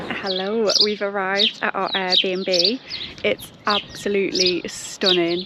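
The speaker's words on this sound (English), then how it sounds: "You can probably hear the birds singing." Birds chirp in a garden outside a rental house in Flanders, their short, bright calls faint behind a person speaking throughout.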